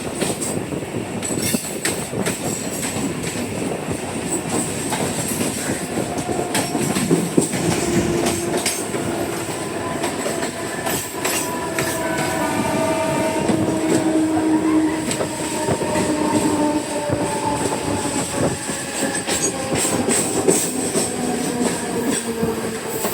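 A Mumbai local train rumbles along continuously with rattling carriages, clicking wheels and occasional metallic squeals, loud and close as if heard from on board, with no talking.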